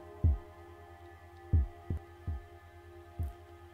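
Five deep, punchy drum hits from a modular synthesizer with quick decays, irregularly spaced over a steady low hum, no voices.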